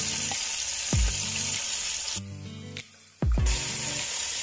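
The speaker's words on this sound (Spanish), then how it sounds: "Siempre agrégalo con el aceite muy caliente y luego le vas a bajar." Chicken pieces sear in very hot oil in a pan for a potato chicken stew, with a loud steady sizzle and several sharp bursts of spitting as pieces go in, close up and without talk.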